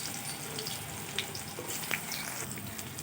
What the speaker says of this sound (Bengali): আর আমি ওই তেলে এক এক করে সব সবজি ভেজে নেব